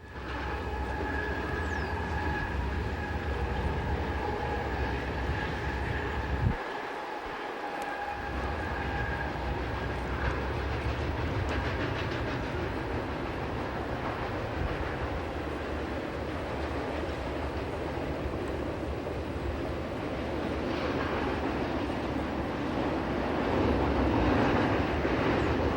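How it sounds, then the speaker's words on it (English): Norfolk Southern manifest freight train number 195 rolling westbound past at Oak Harbor, a steady loud rumble of cars with faint clickety-clack holding throughout, swelling slightly near the end, with no talk. "Just over an hour later, Norfolk Southern number 195 heads west."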